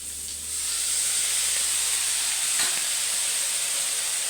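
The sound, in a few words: water sizzling in hot pan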